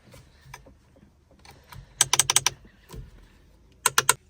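A bolt securing a carbon fibre steering wheel on a BMW F80 M3 is tightened, giving two short bursts of rapid, crisp mechanical clicks, like a ratchet, close by against a quiet background.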